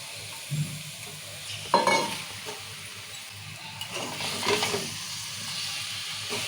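Chicken frying in a curry pan, stirred steadily under a continuous close sizzle, with a few louder scraping stirs.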